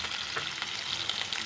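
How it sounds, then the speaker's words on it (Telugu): Green chilli and onion frying in hot oil, a dense, continuous close-up sizzle with crackling pops and spatter, no voices over it. "ఆయిల్ హీట్ అయ్యాక గ్రీన్ చిల్లీ ఇది పడుతుందండి ఆనియన్"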